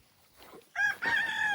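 Chickens cluck and a rooster gives a short crow nearby, loud and close, with no people talking.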